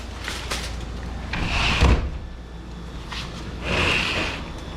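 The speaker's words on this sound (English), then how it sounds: "Told you that door's kind of hard to work with." A stiff kitchen door is opened and then shut, giving two short scraping, knocking bursts about two seconds apart, with a dull thud during the first, all fairly close.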